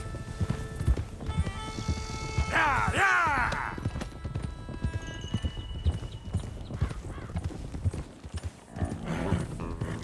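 Herded horses trot and clip-clop in Red Dead Redemption 2, hooves beating steadily and close, with a neigh or whinny rising partway through, while someone shouts encouragement over the herd.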